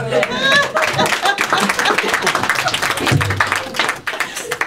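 A church congregation breaks into applause and cheering in praise during a sermon, a loud sustained wash of clapping mixed with voices from the crowd.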